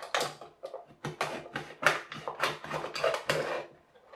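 A blade is pushed into an aluminium drinks can being scavenged for pop pop boats, producing a series of sharp metallic crunches and scraping clicks in irregular bursts, close and fairly loud, with no talking.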